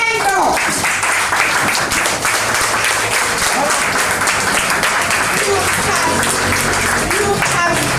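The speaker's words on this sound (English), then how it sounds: "Stand up and give yourself an applause" Applause from team members at a foundation presentation in Buff Bay, Portland, a loud, continuous patter of clapping filling the whole stretch, with voices and cheering mixed in underneath.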